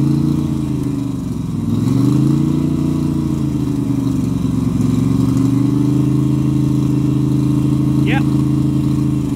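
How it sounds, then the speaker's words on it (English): A Moto Guzzi V7 850 motorcycle fitted with a custom exhaust rumbles close by, its engine rising and holding a raised rev with a deep, throaty drone that runs steadily through the whole stretch. "Okay, rev it up to 3K."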